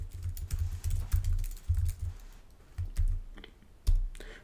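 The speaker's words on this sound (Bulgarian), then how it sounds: "отивам сега на кода и започвам да пиша лека по лека" HTML code being typed on a computer keyboard: quick irregular runs of key clicks with brief pauses, close up and fairly soft, no voices.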